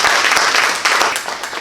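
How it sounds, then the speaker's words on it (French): An audience at a business meetup event bursts into dense, loud applause, a continuous burst of many hands clapping throughout the short moment. "Merci de l'applaudir."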